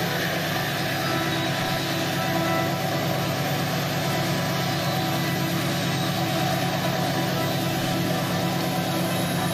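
A 6000 hp GE Evolution Series WDG6G diesel electric locomotive on a test track, its engine a loud, steady, continuous drone that holds unchanged throughout with no talk.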